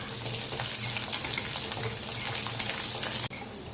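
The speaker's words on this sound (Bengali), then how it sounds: "আলুটাকে ভালো করে ভাজবো" Potatoes fry in a pan, added after fish in a home kitchen, giving a steady dense sizzle that runs continuously with a brief break near the end.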